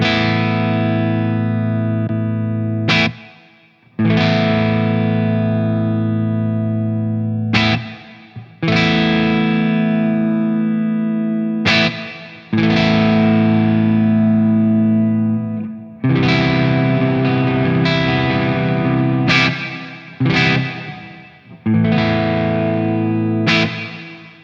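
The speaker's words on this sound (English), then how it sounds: "let's do a very quick test of the reverb control just so you guys can hear how much reverb there is on tap" A distorted electric guitar plays through an ENGL Special Edition Founders Edition amplifier with heavy reverb, loud strummed chords ringing out and decaying into reverb tails between strikes, with no talking.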